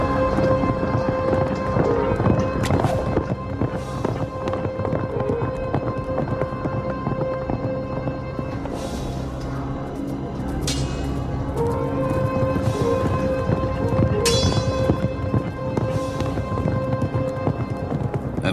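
A group of horses gallops in a sustained, loud rush of hoofbeats, mixed with rumbling and sharp clashing bursts throughout.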